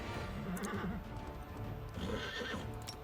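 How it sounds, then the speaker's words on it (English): Undead horses in the fantasy game Pathfinder: Wrath, giving loud, close neighs and whinnies over clip-clopping hooves, in two bursts across a few seconds. "Undead horses."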